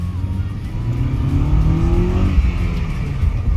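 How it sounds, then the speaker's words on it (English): A Honda Civic EP3 out on a test drive after a year of repairs, its engine droning loud and near, climbing in pitch as it accelerates steadily, with road noise underneath. "I was taking it for a test drive"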